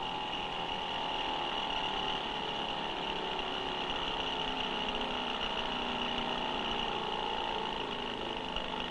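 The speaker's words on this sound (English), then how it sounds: "The machine now runs in the forward direction as a Stirling engine." An experimental Philips Stirling engine in a floating laboratory running steadily, with a continuous mechanical hum and whine and sustained tonal overtones throughout, no voices.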